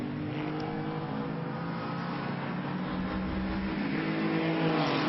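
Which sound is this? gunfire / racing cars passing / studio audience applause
racing cars passing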